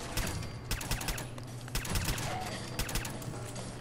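Gunfire in the game Fallout 4, a string of sharp repeated shots in uneven bursts, some close together like rapid fire, over a steady low background rumble, with no talk.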